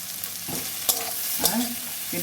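Small dried fish with chili powder and turmeric sizzle in a pan, with steady hissing and a couple of sharp scraping stirs of a spatula, close and clear.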